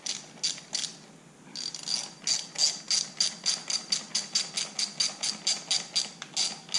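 A ratchet clicks in quick, steady repeated strokes while loosening a stubborn clamp during a Chevy SS RotoFab intake install, close and clear, with a short pause early on.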